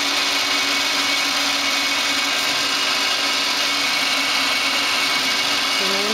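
Slides jog on a Citizen L20 CNC Swiss lathe while the live tool spindle runs at 1000 RPM, a loud, steady machine drone with a faint rising servo tone near the end.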